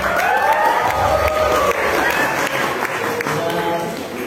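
A concert audience at Gedung Monod Diephuis applauds a suling flute musician with scattered clapping and crowd murmur, loud at first and then slowly thinning out.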